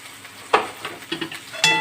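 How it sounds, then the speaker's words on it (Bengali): A ginger, cumin, coriander and black pepper paste is stirred into lightly fried prawns in a hot pan, giving a few brief scraping stirs with soft sizzling beneath, close and moderately loud, with no voices. "দিয়ে কিছুক্ষণ নাড়ব।"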